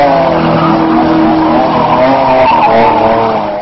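Loud, continuous tire squeal and roaring engine as a BMW spins donuts in tight circles, the skidding screech sustained throughout.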